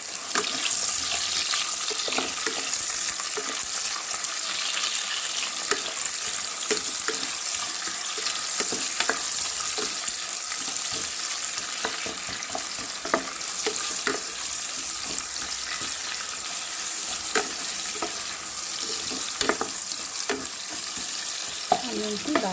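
Onions fry in a pan for Telangana-style bagara rice, giving a steady, unbroken sizzle dotted with small crackles and occasional stirring clicks throughout.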